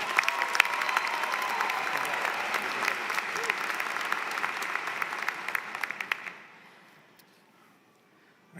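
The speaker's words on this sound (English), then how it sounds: "please welcome him with a round of applause" A ceremony audience for online undergraduate business and STEM programs claps for a student speaker coming to the podium, a full, even applause that holds for about six seconds and then fades away to near silence.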